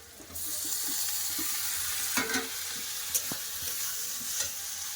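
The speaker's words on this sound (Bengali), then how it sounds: "এবার দিয়ে দেবো কেটে রাখা টমেটো" Chopped tomatoes sizzle and fry in a pan of vegetables for a Bengali dal and fish-head cabbage ghonto, a steady close hiss with a few sharper spatters and light stirring scrapes.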